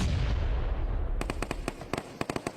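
A grenade goes off in the video game PUBG Mobile, heard as a burst of sharp cracks and pops over a low rumble. The cracks come in a quick irregular run and there is no talking.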